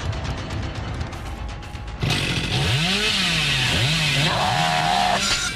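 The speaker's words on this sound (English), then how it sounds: "I wish the chainsaw had better control." A chainsaw in the game Dead by Daylight snarls loudly after a muffled opening stretch, its engine revving up and down in several rising and falling surges.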